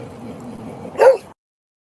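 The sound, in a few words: dog whimpering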